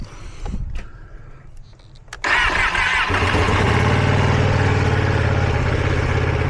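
A warmed-up 2024 Ducati Panigale V2 SuperQuadro motorcycle with an aftermarket exhaust cranks and catches with a sudden loud roar after a couple of quiet seconds, then settles into a steady, muted, throbbing idle close by.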